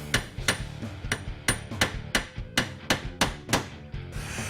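Steady hammer blows drive a roll pin into a distributor gear during timing work for an MSD Atomic EFI throttle body setup, about a dozen sharp metallic strikes in an even rhythm, close and loud with no talk.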